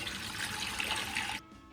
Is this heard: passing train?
no